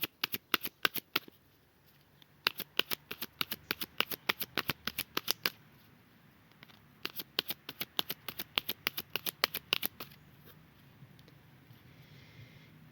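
A deck of tarot cards being cut and shuffled, with crisp rapid flurries of card riffles and snaps in several bursts, close and clear, with no voice over them.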